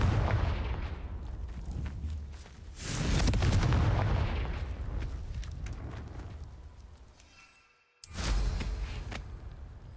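The Confringo explosive spell in Hogwarts Legacy, a video game, sets off booming blasts with rumbling, crackling tails. Two large bursts swell and fade, then the sound cuts out before one more sharp explosion.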